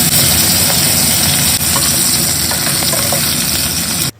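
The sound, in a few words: fish frying in a pan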